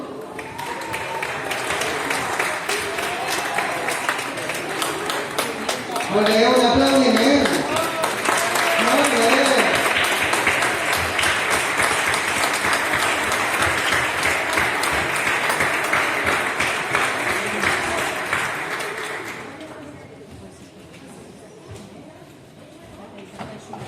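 Warm applause from an audience at a school awards ceremony, steady dense clapping lasting most of the stretch with a voice briefly speaking over it before the clapping dies away.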